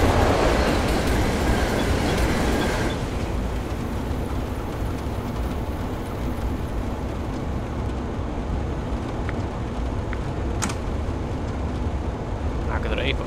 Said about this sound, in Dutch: Een keteltrein.